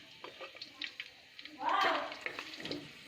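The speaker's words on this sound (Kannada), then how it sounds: "ಎಣ್ಣೆ ಕಾಯ್ದ ನಂತರ ಅದಕ್ಕೆ ಸಾಸಿವೆ, ಕರಿಬೇವು, ಚಕ್ಕೆ, ಲವಂಗ, ಬೆಳ್ಳುಳ್ಳಿ, ಪಲಾವ್ ಎಲೆ ಹಾಕ್ಕೊಳ್ಳಿ" Mustard seeds, curry leaves, cinnamon, cloves, garlic and bay leaf hit hot oil in a home kitchen pan, a bright crackling sizzle swelling up for about a second after light clinks and stirring noises.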